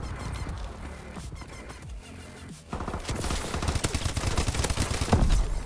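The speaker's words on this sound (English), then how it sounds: "Missile strikes in back." Heavy missile strikes and explosive impacts during a Call of Duty: Advanced Warfare team deathmatch on the Terrace map, a dense, rising barrage of blasts and gunfire building louder toward the end.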